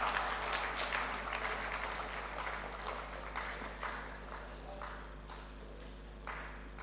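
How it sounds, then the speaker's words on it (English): Audience applause at an investiture ceremony for a new president, a steady patter of many hands clapping at a moderate distance that swells and fades in uneven waves over several seconds, with no talk. "I think another round of applause, please."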